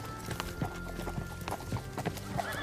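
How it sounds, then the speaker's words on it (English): Horse hooves clip-clop steadily at a walking pace, close by, with rhythmic knocks over a low rumbling background; no speech. "Now that we got his horse, Ellie, he's got to be nearby."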